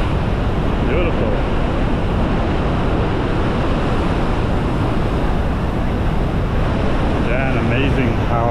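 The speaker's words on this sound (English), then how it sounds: "an amazing power in this waterfall" A loud, continuous roar of rushing water from Vernal Fall in Yosemite fills the scene, broad and unbroken, with faint voices briefly audible beneath it.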